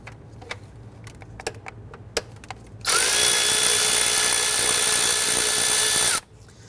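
A power tool spins up on the 10mm bolt holding a hard line bracket on a 2011-2017 Nissan Quest 3.5L V6. Faint clicks come first, then a loud steady whir for about three seconds that stops abruptly.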